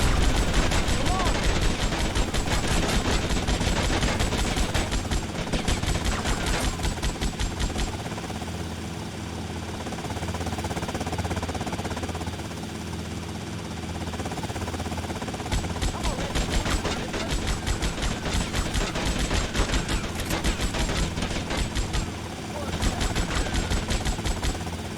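Dense gunfire from in-game weapons in GTA Vice City during a chaotic shootout, loud and nearly continuous bursts with a low rumble like a helicopter underneath, running the whole stretch with brief lulls.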